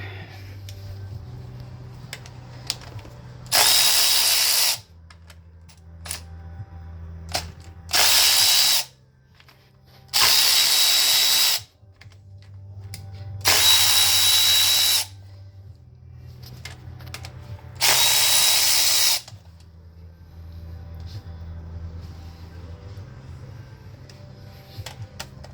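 Power tool spinning off bolts during a Nissan timing chain replacement, five loud whirring bursts of a few seconds each, separated by quieter stretches of low shop hum and small clinks.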